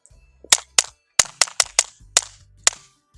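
Suppressed automatic fire strikes a steel dueling tree outdoors: about nine sharp, close cracks in an uneven sequence, each followed by a brief ringing tail, with near silence between them.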